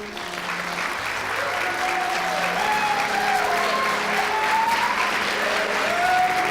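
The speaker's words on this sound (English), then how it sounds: "Let's give a round of applause for Miss Brianna Perkowski and Mr. Zane Meye" Sustained applause from a crowd at a Miss Massillonian and Outstanding Senior Boy pageant, steady and fairly loud throughout, with a faint voice or tone drifting underneath.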